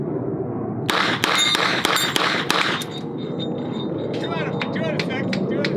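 Pistol rounds from a Glock strike a steel target, a burst of several sharp metallic clangs and rings in quick succession followed by a lingering ringing tone, with people talking over and after the hits.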